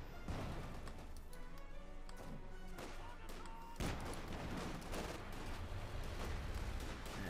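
Mortar and gunfire in the Company of Heroes 2 strategy game: a dense stream of sharp booms and cracking shots, with one heavier blast midway, playing under a commentator's voice.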